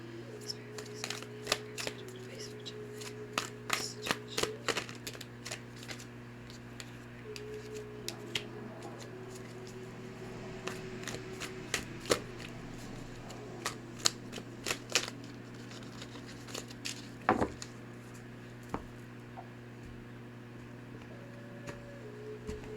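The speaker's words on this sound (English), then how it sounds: "Shuffle some more times." Tarot cards shuffled by hand in a steady run of crisp riffles and taps, close and soft, with a faint low hum beneath.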